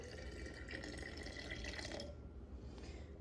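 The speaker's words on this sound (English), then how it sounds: "Then I'm going to add 140 or 130 grams of water." Water poured into a sourdough starter sitting on a kitchen scale, a quiet steady trickle and splash that stops partway through, leaving faint room tone.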